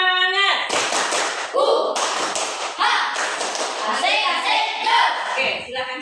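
A school class does a rhythmic spirit clap in a classroom, a run of loud, close claps in patterned bursts with children's voices chiming in between.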